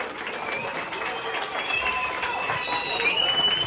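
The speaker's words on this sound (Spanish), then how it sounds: "Un aplauso, por favor," Applause from an audience greets a ninth-grade school reading project presentation, moderate clapping mixed with crowd murmur and a few voices.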